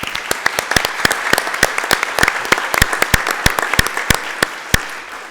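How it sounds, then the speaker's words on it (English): An audience at a community college board of trustees meeting applauds student winners, with a sustained patter of many hands and sharp individual claps standing out, fading slightly near the end. "Round of applause for our student winners."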